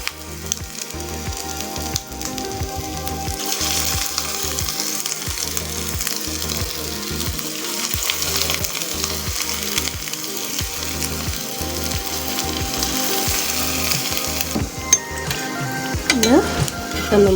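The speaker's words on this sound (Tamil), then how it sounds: "இப்போ இதை நம்ம எண்ணெயில் ஃப்ரை பண்ணி எடுக்க போகிறோம்" Cauliflower pieces deep-fry in hot oil, giving a loud, steady, close sizzle that runs without a break, with the scrape and clatter of a utensil turning them now and then.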